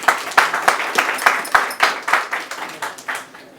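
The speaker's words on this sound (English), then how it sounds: "Let's give them a hand clap." Hand clapping from a small audience at a season reunion show finale, a rapid run of sharp claps that tapers off toward the end. Brief and fairly loud, with no talking over it.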